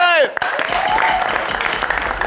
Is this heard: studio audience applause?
yes